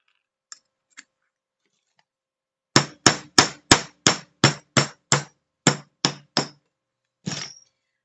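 A hammer striking an older Pepe disc cutter to punch a quarter-inch metal circle: two light taps, then a quick run of about eleven sharp, evenly spaced blows and a final duller hit, close and isolated.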